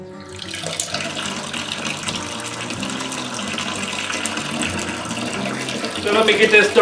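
Hot water at about 170 degrees pours steadily during sparging of a fresh pumpkin and brown sugar whiskey mash, a continuous close splashing gush that grows louder and more turbulent near the end.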